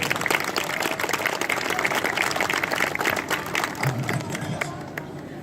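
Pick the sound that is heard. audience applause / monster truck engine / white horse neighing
audience applause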